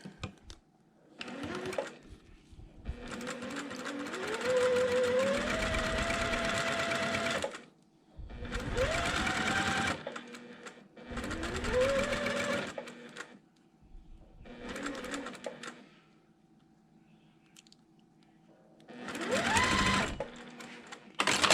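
A sewing machine stitches quilt fabric strips in repeated bursts of whirring motor hum, each a few seconds long, rising in pitch as it speeds up, with quiet pauses between runs.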